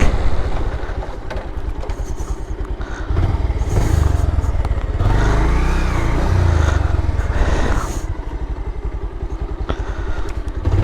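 Loud, close engine note of a Bajaj Pulsar motorcycle with 28,000 km on it during a short ride, running continuously with rising and falling throttle surges and some clattering thumps, with no speech.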